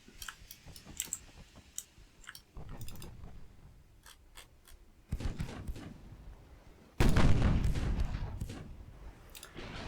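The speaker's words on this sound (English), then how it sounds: "And now she's firing one gun again." Warship guns boom in Ultimate Admiral Dreadnoughts, a naval battle video game, with sharp clicks and scattered reports building to heavy, loud blasts that swell in the second half of the clip.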